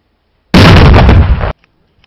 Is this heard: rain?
no